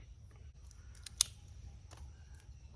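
A pair of scissors snips through plastic casing on a twist tie, a few quiet, sharp clicks with one crisp cut standing out against a low background hum.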